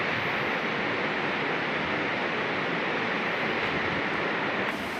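A waterfall in Tasmania, a steady broadband rush of falling water with no distinct events, moderately loud and unbroken throughout.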